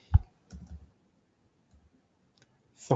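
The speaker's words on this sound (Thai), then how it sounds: "คลิกขวาที่ออเดอร์ก็ modify" Computer mouse clicks on a trading program: a sharp near click, a short cluster of softer clicks, then a faint tap and a louder click at the end, separated by near silence.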